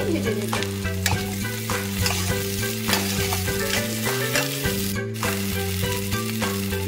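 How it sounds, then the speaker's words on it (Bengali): Chopped tomatoes fry in oil in a pan with onion, a continuous close sizzle with stirring scrapes, loud and steady under background music. "টমেটো কুচি গুলো ভালো করে ভেজে নেব।"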